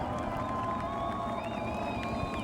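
A crowd cheers and roars steadily throughout at a sprint car race in Florence, Kentucky, broad and continuous, with a faint high whine running through the noise.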